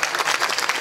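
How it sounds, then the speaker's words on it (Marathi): Audience applause at a Varkari kirtan: a short, dense burst of many hands clapping together, fairly loud and with no pauses. "त्यांच्यासाठी एकदा जोरदार टाळी वाजवा"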